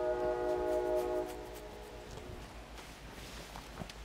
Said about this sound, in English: the train is just messing with my shoot